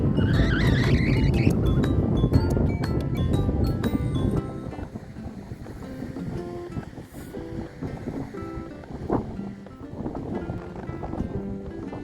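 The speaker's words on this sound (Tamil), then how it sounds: "காற்று பயங்கரமாக அடிக்குது." Strong, cold coastal wind at Peggy's Cove buffets the microphone in a loud, roaring rush for the first few seconds, then keeps blowing as softer, uneven gusts with some tonal sounds in the background.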